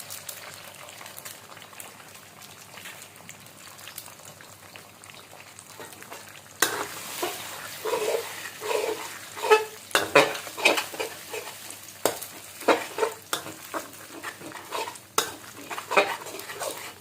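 Eggs being stir-fried in a pan for Thai egg fried rice: a quiet stretch gives way to loud sizzling frying with repeated scraping stirs of a utensil against the pan, close and steady.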